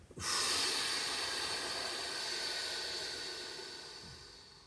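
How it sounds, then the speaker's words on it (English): A single long, steady breath blown out through pursed lips, a close breathy hiss that fades gently over several seconds. "exhale through pursed lips for as long as you like"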